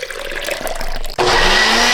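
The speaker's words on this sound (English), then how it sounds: "Now we're gonna puree what's left." Blender pureeing seeded tamarind pulp for a Mexican drink, a mixed whirring that abruptly ramps to a loud, steady high-speed roar partway through, close and alone.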